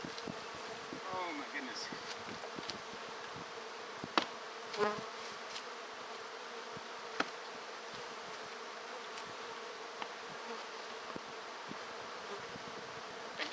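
Honey bees buzz steadily around insulated hives, a dense, continuous hum close by, broken once by a brief exclamation from a person.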